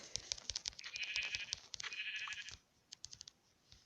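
Short, nasal Minecraft sheep bleats sound in a quick burst, then a few sharp clicks, like keys, follow after a brief pause.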